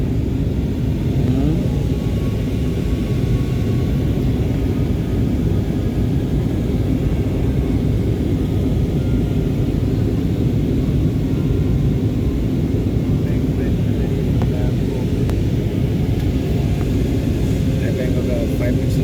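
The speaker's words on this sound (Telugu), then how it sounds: "హైదరాబాద్ ల్యాండ్ అవుతుంది ఫ్లైట్." Steady, loud roar of a passenger airplane cabin during descent into Hyderabad, a continuous low rumble and engine drone that stays constant throughout without pauses.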